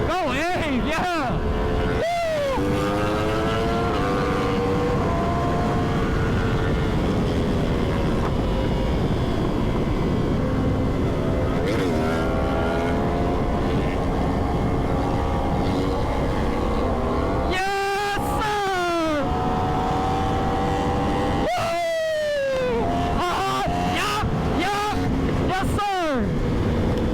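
A group of more than ten superbikes ride together toward a Dallas sunset, engines loudly revving and rising in pitch as bikes accelerate and pass close by, with wind rush constant and riders occasionally talking.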